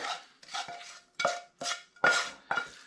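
Onions are folded into curry-and-rice bread dough in a bowl, making a series of about six close, distinct scraping, squelching strokes with short pauses between them.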